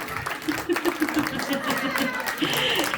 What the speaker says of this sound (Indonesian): Tepuk tangan buat Hajar ya Maria